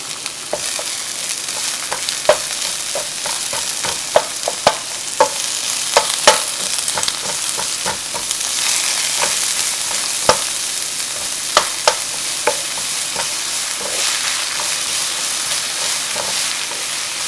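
Garlic and shallot fry in browned caramel for Vietnamese caramelized catfish, a constant close sizzle broken by repeated sharp scraping clicks of a utensil stirring the pan.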